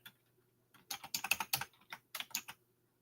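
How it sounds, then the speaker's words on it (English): Typing on a computer keyboard, with irregular bursts of quick clicking keystrokes close by, starting after a brief pause and coming in two clusters. "oh shoot, I'm typing it on the wrong one"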